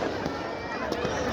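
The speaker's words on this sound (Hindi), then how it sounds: "ये आतिशबाजी का नजारा भी शुरू हो चुका है।" Fireworks at a Dussehra Ravan Dahan festival in Jodhpur give a dense, continuous outdoor crackle and rumble, with several sharper bursts over a busy crowd-like background and no clear pauses.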